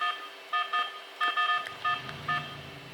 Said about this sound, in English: It sounds like a dial-up phone.